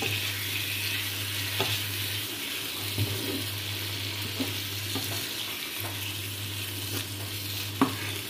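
Tangra and banshpata fish fry in spice paste with a steady low sizzle and occasional stirring clicks, under a constant low hum, with no one talking.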